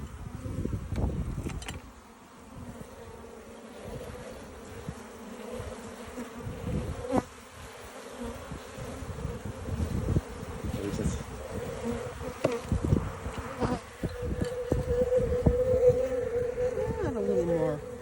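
Honeybees buzz around an opened hive frame during a mite check, a steady close insect drone with scattered rustles and handling knocks, voices faint at times in the background.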